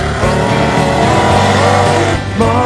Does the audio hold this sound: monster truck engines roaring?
yes